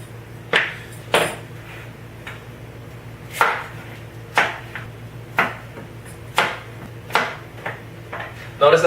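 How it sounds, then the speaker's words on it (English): Knife chopping big pieces of celery and carrots on a cutting board for bone broth, about a dozen sharp, fairly close chops in an irregular rhythm over a low steady background hum. "Notice that I'm chopping these really, really big"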